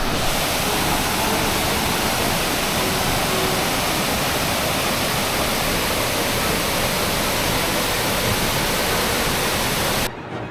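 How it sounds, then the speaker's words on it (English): A loud, constant roar of rushing, falling water from Black Mountain Waterfall fills the scene without pause, close by and steady, cutting off abruptly at the end. "This is Black Mountain Waterfall"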